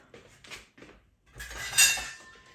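A metal lid goes onto a skillet while a home cook prepares inangit, a few soft knocks of handling followed by a brighter clinking scrape of metal as it settles, close and alone.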